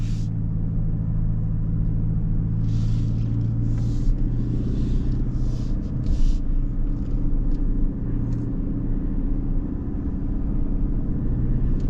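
A new Toyota Land Cruiser crawls slowly off-road in low range, a steady low engine rumble with scattered crunches and knocks from the terrain, close and continuous, no talk.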